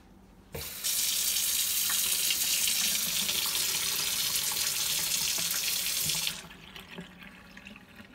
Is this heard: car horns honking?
no